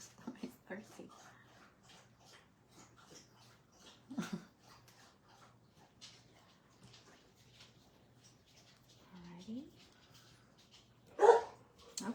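Maggie, a dog at the door, gives scattered barks and soft whimpers, quiet and somewhat distant, with a louder bark near the end.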